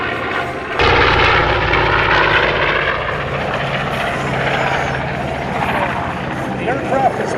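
North American B-25 Mitchell bomber with twin 1,700 horsepower Wright Cyclone engines flying at an airshow, a loud sustained propeller roar that swells suddenly and then holds steady, with a person talking over it.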